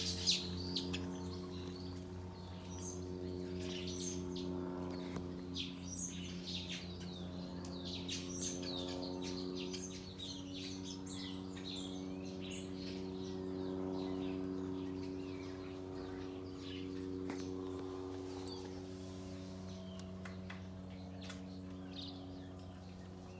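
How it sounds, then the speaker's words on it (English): Birds chirp in a garden beside a koi pond, with faint, scattered calls at a distance above a steady low hum. "it really has brought a lot of birds into the garden"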